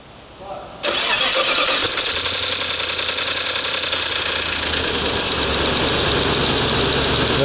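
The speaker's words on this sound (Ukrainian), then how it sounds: "зараз будуть погані звуки, так як схаче той натяжник, це болячка. Давай пробуємо запускати. Буде зараз стукати." An Audi A8 D2 engine with a failing timing belt tensioner cranks and catches, then settles into a loud, steady idle with a rapid metallic knocking running through it, and a voice is heard nearby.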